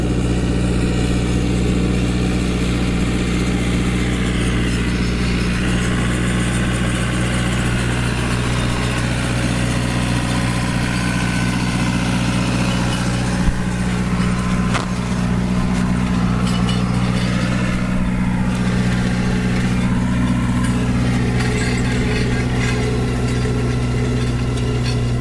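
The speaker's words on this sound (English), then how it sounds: "I'm going to have to stop talking here for a minute because the tractor is coming right by us" A tractor drives close by while chopping up vegetation, giving a loud, steady engine drone with a mechanical rumble that holds for the whole stretch outdoors in the countryside, with no talking over it.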